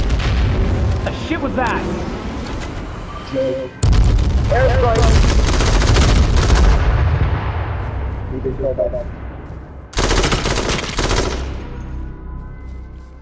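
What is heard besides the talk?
airstrike explosions in H1Z1 video game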